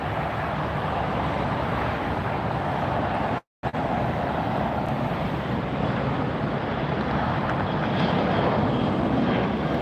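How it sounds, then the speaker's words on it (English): A WestJet airliner takes off at LAX, a broad, loud roar of jet engines that swells steadily at a distance, with a brief dropout partway through and no talk. "Right after we watch WestJet take off."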